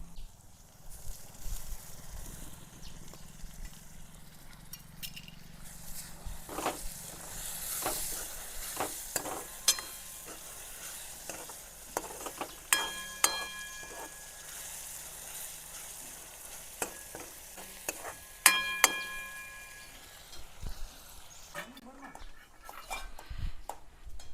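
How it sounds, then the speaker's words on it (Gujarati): Onions sizzling in a pan with tomatoes added, a steady frying hiss under repeated scraping strokes of a spoon stirring, with a few sharp clinks against the pan. "ડુંગળી સારી રીતે સડી ગઈ છે, આપણે ટમેટા નાખી દઈશું."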